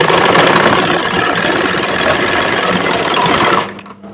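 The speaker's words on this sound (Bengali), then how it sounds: "এবার আমি সেলাই করব।" A sewing machine stitches a kameez seam, its steady fast motor whir and needle chatter running loud and continuous before cutting off near the end.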